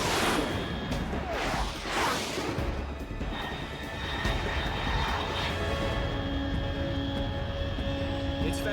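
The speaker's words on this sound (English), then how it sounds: "Unidentified aircraft detected." A fast jet-like aircraft passing overhead in Metal Gear Solid 3, a broad roaring rush of engine noise that swells and holds with whooshing sweeps, loud and sustained, with faint background game sounds.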